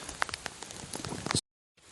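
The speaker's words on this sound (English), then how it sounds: "It's raining" Scattered raindrops patter and tick close by for over a second, then everything cuts to silence before a faint return.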